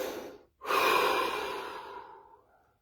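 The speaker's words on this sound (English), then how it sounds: "Take a deep breath." A deep breath during a guided relaxation body scan: a short inhale, a brief pause, then a long, close, airy exhale that slowly fades to silence.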